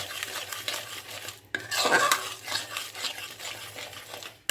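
A spoon scrapes and clinks against a pan while stirring raw green mango chutney with palm jaggery, with a busier rattling stretch midway and quieter scraping on either side.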